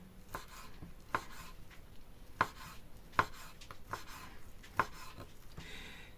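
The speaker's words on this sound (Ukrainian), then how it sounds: "Беремо млинець, згортаємося так трубочкою і дрібнесенько нарізаємо соломкою." A knife chops through a rolled egg crepe on a board, cutting it into fine strips for a cabbage salad, with irregular crisp taps at close range and no voices.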